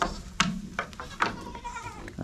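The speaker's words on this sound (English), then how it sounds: "Come on, goats. Over here." Goats on a farm bleat several times at close range, short wavering calls scattered over low background noise.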